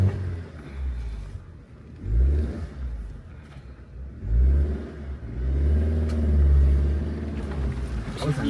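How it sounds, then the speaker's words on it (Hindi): Car on a rough, rocky mountain road in Spiti strains over large stones, its engine swelling and surging in repeated low revving bursts with a grinding rumble, close and loud. "थोड़ा सा स्ट्रगल करती है गाड़ी ना, पत्थर इतना बड़ा है ना वहाँ पे, उसी से निकालना है।"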